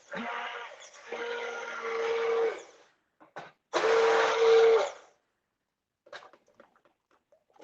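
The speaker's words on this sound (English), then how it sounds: "And I'm using my chopping attachment." A food processor with a chopping attachment blending mushrooms for soup runs in two whirring motor bursts with a steady whine, separated by a pause, followed by light clatter and quiet.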